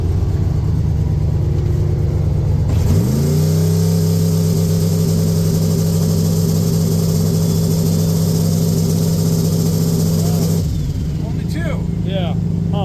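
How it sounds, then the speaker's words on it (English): A big-turbo OBS street truck engine holds a loud, sustained rev against the transbrake for several seconds, then drops back to a rough idle, heard up close. "Trans brake test."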